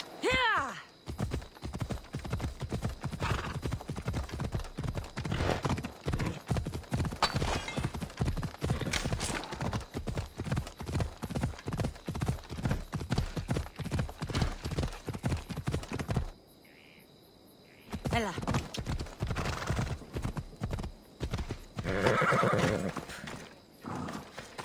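Video game horse hooves clip-clopping in a fast, steady galloping rhythm, close and loud, with snorts and whinnies and a short pause partway through; a voice speaks briefly.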